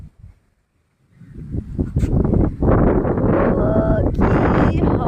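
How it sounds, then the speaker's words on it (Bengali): Strong gusty wind ahead of an approaching storm buffets the microphone outdoors, rising after a quiet second into a loud, continuous rush, with voices talking over it. "পাপা কেমন হাওয়া হচ্ছে?"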